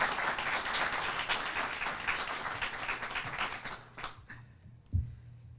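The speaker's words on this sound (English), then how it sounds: "give him a hand of applause" Hands clap for Dr. Comia at a dentistry college gathering. The applause starts full and steady, then thins out and dies away, ending with a single light tap.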